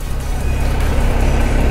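Dense city traffic in a busy town, a continuous low roar of engines and tires close by, with faint brighter swishes of vehicles moving through, steady and unbroken.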